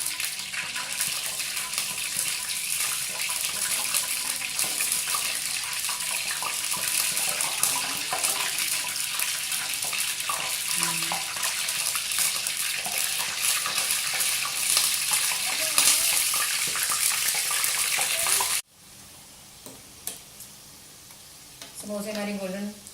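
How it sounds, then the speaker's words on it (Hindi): Potato samosas fry in hot ghee over medium heat, a dense, steady sizzle with faint stirring that runs loud for most of the time, then cuts to a much quieter pan with a brief voice near the end. "ये जितना घी गर्म होगा उतने में अच्छे बनेंगे समोसे"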